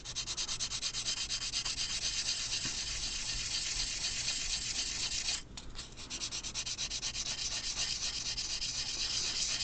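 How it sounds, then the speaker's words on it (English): Sandpaper rubs over plastic model putty in rapid back-and-forth strokes that make a continuous close scratching rasp, with one brief pause before the even rhythm resumes. "the plastic and the putty itself really aren't nearly as scratched up from that rough grit sandpaper"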